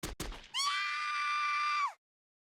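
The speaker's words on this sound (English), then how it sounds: "then a woman's scream" In the visual novel Chaos;Head Noah, a few sharp distant pops lead into a woman's high, sustained scream that holds steady for over a second before abruptly breaking off into silence.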